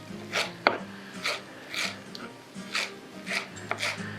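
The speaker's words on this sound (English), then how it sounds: "Give it a little rinse. And we're gonna chop it up pretty fine." Fresh parsley is finely chopped on a cutting board: a steady rhythm of soft, crisp knife strokes and rocking taps, close and moderately loud.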